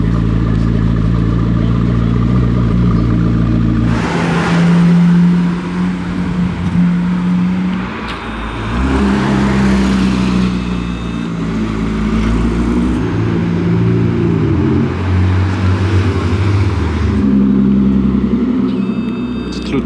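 Supercar in Monaco, with a Krapovic exhaust and audible turbos, revving and roaring loudly and close as it passes, in swelling and fading waves over a constant street rumble, with no speech.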